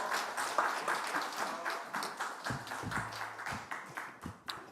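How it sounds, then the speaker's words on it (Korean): Church congregation at a Sunday worship service claps to welcome a missionary, scattered individual claps at moderate distance growing sparser and more separated toward the end, faint and without talk. "할렐루야 하고 박수로 우리 선교사님 맞이하겠습니다"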